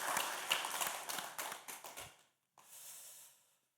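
A church congregation at a Sunday service claps in praise after a choir, quiet, fairly quick hand claps that taper off after about two seconds, followed by a short soft rustle.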